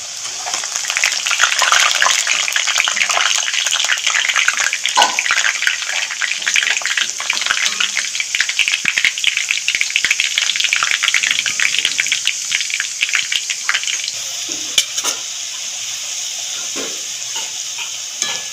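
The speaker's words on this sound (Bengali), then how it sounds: "কড়াইতে তেল গরম হয়ে গেছে ঠিক একদম অল্প অল্প করে আলু এর মধ্যে দিয়ে ছাড়বো" Shredded potatoes frying in hot oil in a wok, added a little at a time, give a loud, dense, continuous sizzle with occasional stirring scrapes, close up and without speech.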